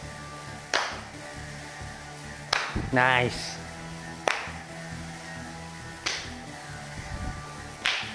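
Sharp hand claps land about every two seconds, five in all, while an instructor talks over a steady step-aerobics music rhythm.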